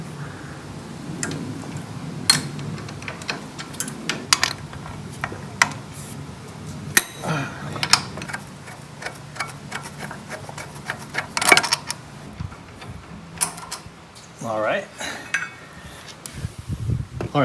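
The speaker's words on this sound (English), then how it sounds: "let's get that brake caliper off. There's a couple of 17mm bolts holding it on." Wrench removing 17mm bolts from a 1965 VW Beetle brake caliper, close metallic ticking and clicking of ratcheting and tool contact, irregular and repeated throughout, with occasional clanks of metal parts.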